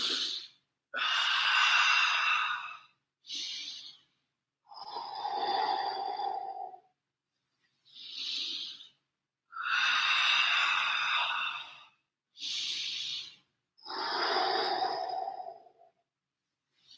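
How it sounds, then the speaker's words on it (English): Slow, deep breaths taken during a guided relaxation and stretching exercise, long drawn inhales and exhales repeating in a steady rhythm, close and clear with no talking. "Deep breath in."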